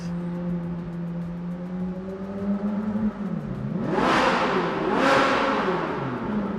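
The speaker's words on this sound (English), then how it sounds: "the Capristo exhaust, bro. It sounds so good in this car" A Ferrari 458 Italia with a Capristo exhaust drones steadily, then revs hard twice in quick succession, the exhaust rising to a loud, raspy howl up close.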